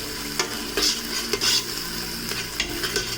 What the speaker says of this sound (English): The 2 carrots that have been grated, they're getting browned nicely now.